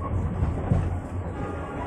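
Passenger train on the Bandung–Jakarta line rolling along just after passing Cikudapati station, a steady low rumble with soft rhythmic rail clatter heard from inside the carriage, no talking.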